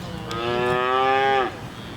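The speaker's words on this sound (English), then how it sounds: "Cattle ranching is in Isidro Medina's blood" A single loud, drawn-out moo from cattle on a small ranch in Paraguay, close and clear, lasting over a second and then cutting off against quiet outdoor background.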